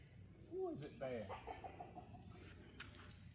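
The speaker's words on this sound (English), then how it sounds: "Gotta hope your chickens don't get out." Chickens making a few close clucks and a short rising squawk, then softer scattered clucking over faint insect chirping and a steady background hum.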